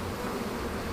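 Honeybees hum softly inside a hive box, a faint steady drone, with a brief knock or thump near the end.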